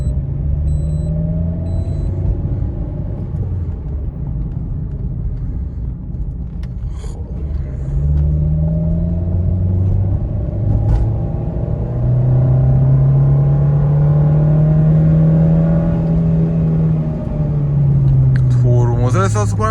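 A car engine fitted with a turbo fan rumbles loudly up close, its pitch rising and falling as it revs and accelerates in long pulls.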